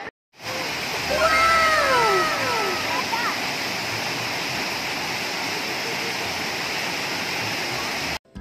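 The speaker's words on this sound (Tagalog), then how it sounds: "Nakaka-relax pakinggan ang tunog ng falls." Steady broadband roar of Laktas Falls in Dingalan, Aurora, filling the whole scene continuously; bird or animal calls and faint voices rise briefly over the rush of water near the start.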